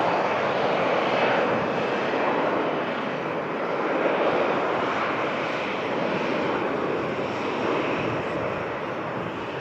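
A Ryanair jet arriving five hours late, its broad engine roar loud and steady throughout with no voices over it.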